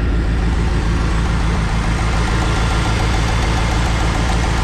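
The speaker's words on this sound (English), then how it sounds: "I did nothing but turn the key again and misfire" A Nissan 720 truck engine fitted with a Weber 38/38 carburetor runs roughly and misfires, giving a loud, steady, close-up drone with an uneven low-frequency pulse and no voices.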